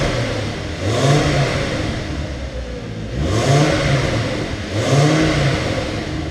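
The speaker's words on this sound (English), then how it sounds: "Rev it up a bit." A car engine with a cheap fix on its exhaust revs three times, each swell of throttle rising then easing back toward a rough idle, loud and close, with no talk.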